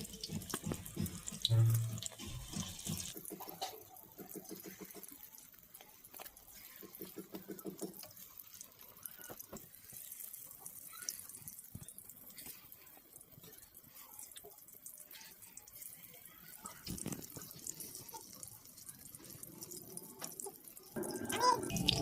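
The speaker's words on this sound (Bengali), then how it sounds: "বড়াগুলো হতে দিয়ে আমি হাতটা ধুয়ে নিচ্ছি।" Hands are washed under a running kitchen tap after shaping prawn pakoras: a steady, close rush of water splashes into the sink for the whole stretch, with small shifts as the hands move and no voices.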